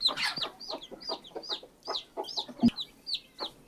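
A country hen clucks softly in short repeated calls while her newly hatched chicks peep in high, rapid chirps close by, a lively back-and-forth of small fowl sounds without talk.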